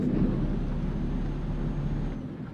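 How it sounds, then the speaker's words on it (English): A low-flying airplane passing overhead, heard as a loud, continuous low rumble that fills the whole moment and fades slightly at the end. "There was a plane that flew very close to very low to the ground, it sounded like."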